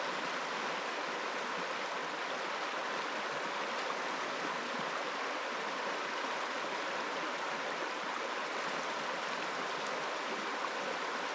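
Pilgrim Creek in Northern Ontario's Temagami region flows in a steady, even rush of water, constant and moderately loud with no voices or breaks.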